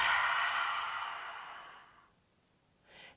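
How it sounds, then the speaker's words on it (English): A long, breathy open-mouthed exhale with an ah quality during a yoga breathing exercise, fading over about two seconds, followed by a short quieter breath near the end. "So on the exhale, you're letting this ah sound come out"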